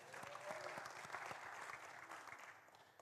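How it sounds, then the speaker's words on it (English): A crowd at a Juneteenth community gathering claps steadily and fairly evenly for about three seconds, a dense patter of many hands at moderate distance with no voices rising above it. "And we can clap for that"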